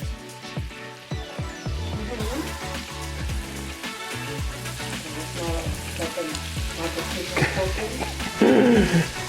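Garlic-infused bacon grease sizzling in a pan on the stove, a steady close crackle with knocking and shifting utensil sounds, louder toward the end.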